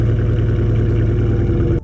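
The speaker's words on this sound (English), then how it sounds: "This smaller V8 still packed a punch and sounded the part" A GM LS4 V8 engine running steadily, giving a loud, continuous low rumble with an even pulsing beat throughout and no voices.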